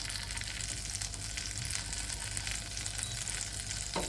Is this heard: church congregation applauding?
no